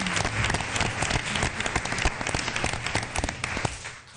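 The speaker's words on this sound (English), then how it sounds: "Let's have a round of applause for Mishi Haslip" An audience applauds at a school board meeting, a dense steady patter of many hands clapping in a room that tapers off toward the end.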